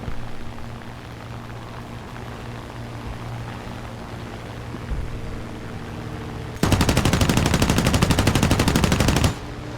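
Rapid machine-gun fire from a P-40F fighter in War Thunder air arcade combat, one loud sustained burst of about three seconds over a steady engine drone.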